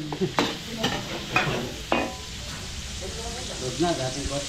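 Chicken sizzles and crackles with garlic and onion in a hot pan while a spoon stirs with a few sharp scrapes, and faint voices murmur in the background.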